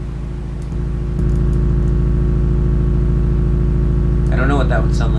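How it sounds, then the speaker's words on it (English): Low-pitched drone from a bagpipe-style drone instrument, a steady buzzing, harmonically rich hum that swells louder after a moment and holds continuously, with a brief burst of talking near the end. "Drones by themselves sound like this at this low pitch."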